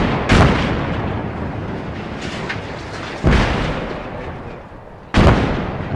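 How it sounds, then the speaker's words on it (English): Three heavy video game explosion booms spaced a couple of seconds apart, each a sharp blast followed by a rumbling decay, over a constant noisy background. "when those explosions are finished, we'll send a couple people back"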